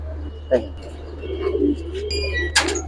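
Giribaz and high-flyer pigeons coo softly in a loft, low murmuring calls scattered among a few chirps and clatters, with a steady hum and people talking nearby.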